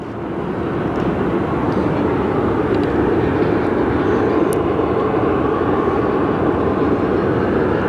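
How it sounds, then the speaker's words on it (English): A CRJ 700 regional jet departs Phoenix Sky Harbor, heard as a steady, loud broadband engine roar that swells briefly and then holds evenly throughout, with no speech over it. "Departing now, that's that CRJ 700 for going to Oklahoma City."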